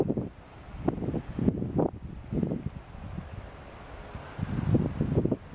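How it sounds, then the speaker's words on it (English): Steady wind buffeting the microphone, rising and falling in low rumbling gusts with a faint rustle behind it. "Very beautiful and windy day today."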